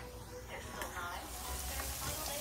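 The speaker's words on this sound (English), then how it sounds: "you put it in a frying pan and you just fry it up" Steady, soft sizzling of food frying in a pan, a continuous crackling hiss with faint stirring, no talking.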